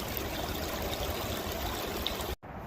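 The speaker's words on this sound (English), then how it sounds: "Beautiful creek." A beautiful creek near a river bridge flows with a steady, broad rushing of water that stays constant and fairly loud, then cuts out briefly near the end.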